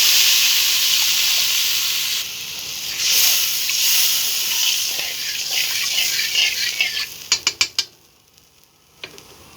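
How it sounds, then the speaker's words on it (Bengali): Water poured into a pan of well-fried spice masala of turmeric and dry chili powder for a koi fish bhuna curry, giving a loud broad sizzling hiss that gradually calms, then a few sharp clinks of a utensil near the end. "মশলাটা খুব ভালোভাবে ভাজা হয়ে গেছে এবার আমি পরিমাণ মতো পানি দিয়ে দেবো"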